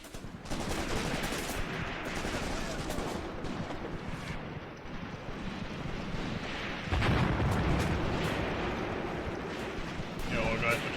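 An artillery barrage in the war game Graviteam Tactics rumbles on, dense overlapping blasts and gunfire merging into a continuous loud roar with heavier surges partway through.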